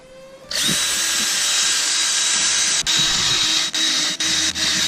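A drill spinning a wire wheel brush whirs loudly and steadily up close, with a few brief dips as it catches and scrapes, cleaning parts on a Mustang before paint.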